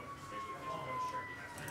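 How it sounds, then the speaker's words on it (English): A faint ambulance siren passes outside, its thin wailing tone held steady for under two seconds beneath indoor room noise during a sports card box break. "You guys hear that ambulance?"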